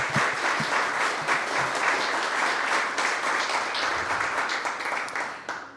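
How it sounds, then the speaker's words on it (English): Sustained audience applause at a Pride storytelling event, a steady wash of many hands clapping at moderate loudness throughout, with faint cheers. "can we get another big round of applause for EMC and Athene?"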